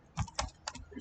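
Computer keyboard keys typed in a few quick bursts, close and clear, while entering a web address; no one speaks.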